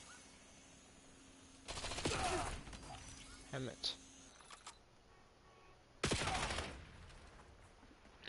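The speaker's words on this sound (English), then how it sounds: "It's just a pack-a-punch Thunder Gun." The Pack-a-Punched Thunder Gun, known as the Zeus cannon, fires in Black Ops 7 Zombies with two loud, booming blasts a few seconds apart. Brief talk and small game noises fill the gaps between them.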